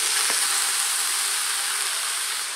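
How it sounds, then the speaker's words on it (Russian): Vegetables with tomato stew-fry in a pan with a dense, even sizzling hiss, loud and close, with no voices. "Пускай все вместе жарится лучше."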